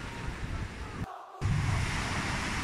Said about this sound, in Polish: Fale są takie duże, że w ogóle opryskuje mi telefon.